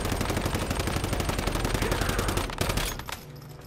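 Rapid automatic gunfire from a gun in the video game Once Human, a dense burst of loud repeated shots that stops abruptly near the end.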